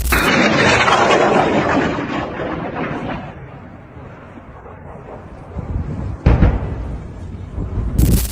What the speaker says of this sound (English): A missile suddenly raced past before exploding in midair, sending a powerful shockwave across the scene.